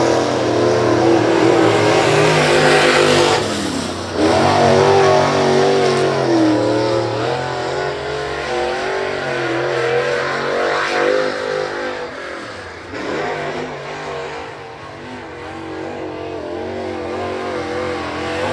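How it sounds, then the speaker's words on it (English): Race cars circle the Big O Speedway during warm-up laps at a regular race program, engines roaring loudly as they accelerate and pass, the pitch sweeping up and down with each car's approach and departure. "Here comes Ortanic Mikhail out there in the 21 machine taking his warm-up lap"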